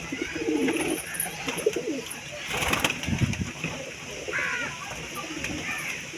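Pigeons coo in a coop, soft repeated throaty calls coming in bursts at close range, with a voice talking over them at times.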